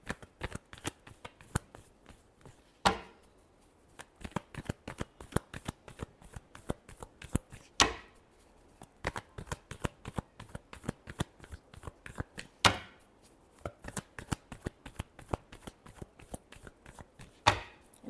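Tarot cards are shuffled over and over for a reading, giving a quiet, close train of rapid papery taps and slaps with a louder riffle burst every few seconds and no talking.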